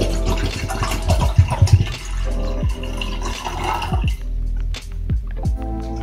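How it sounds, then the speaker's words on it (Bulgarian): Half a litre of plain water is poured into a small cooking pot, giving trickling, gurgling and dripping sounds with rising fill tones, fairly close and loud, without speech. "ставаме половина литар бела обична вода"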